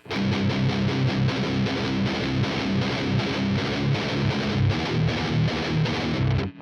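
Heavy, distorted electric guitar chords in a drop tuning chug in a low, thick register, played in quick repeated strums that ring loud before cutting off at the end.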